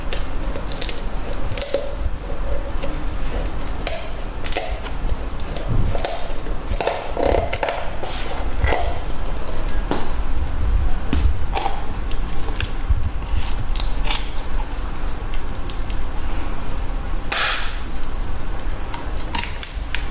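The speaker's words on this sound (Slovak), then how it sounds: "nožnicami ostrými kuchynskými alebo akýmikoľvek, čo máte doma, pevnejšími nožnicami vystrihnem chrbtovú kosť po obidvoch stranách" Sturdy kitchen scissors snipping through a raw chicken's backbone on both sides, giving a string of sharp crunching clicks and snaps at irregular intervals, close and fairly loud over a busy kitchen background.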